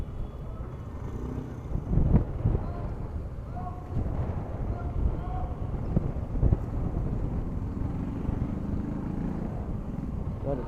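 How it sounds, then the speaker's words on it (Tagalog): Inside a RoRo ferry bound for Surigao in Mindanao, a steady low engine rumble and wind buffeting fill the space, with scattered knocks and occasional faint voices in the background. "Nandito na tayo sa loob ng Roro. So ito ay papunta ng Surigao guys, sa Mindanao."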